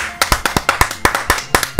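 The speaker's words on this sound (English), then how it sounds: "Everybody clap your hands." Hands clapping in a steady rhythm, about a dozen crisp, close claps in quick succession with no voices.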